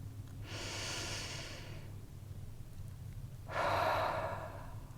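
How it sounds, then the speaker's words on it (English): Two slow, deep breaths taken during a guided meditation, a long airy inhale followed after a pause by a louder, fuller breath, close and quiet, with no speech. "I invite you to join me in taking a breath."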